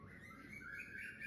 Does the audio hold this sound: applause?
no